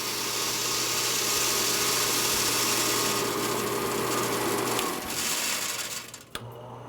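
An Avalanche 1400 fluid bed conical destoner running with a steady mechanical hum and airy rush that winds down near the end, followed by a brief clunk and a quieter restart.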